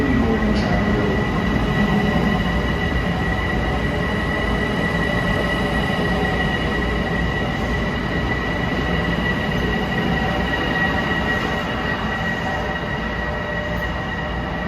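An LIRR train sits at a platform in the new Grand Central terminal, its engine and ventilation roaring steadily and loudly throughout, with a brief wheel squeal near the start and no talk.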